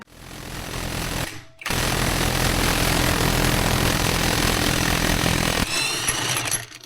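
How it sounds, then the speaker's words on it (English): A Hercules 1/2-inch compact impact wrench with a 27mm socket hammers at a truck's crank bolt in a tight engine bay, a loud sustained rattling burst that pauses briefly, then resumes for several seconds before cutting off. "This takes a 27mm socket, and in my case, the Hercules 1/2-inch compact impact."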